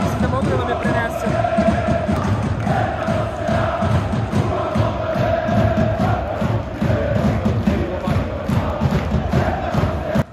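A loud football crowd in a new stadium at a Paris FC vs Metz match, a dense, continuous roar of fans with rhythmic chanting and clapping, close and unbroken, with voices mixed in.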